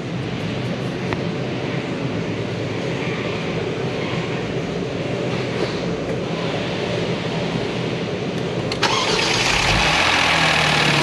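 A Genesis G70 car being started after a coolant top-up: a steady background hum, then the engine cranks and catches near the end and settles into a close, even idle.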